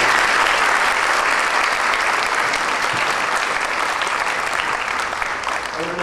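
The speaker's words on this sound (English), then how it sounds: "Can we give those 4 student speakers a big round of applause?" A dense, sustained burst of applause from a large crowd at a high school graduation ceremony, loud and steady throughout, fading slightly near the end.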